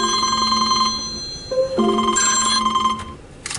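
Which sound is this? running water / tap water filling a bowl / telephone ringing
telephone ringing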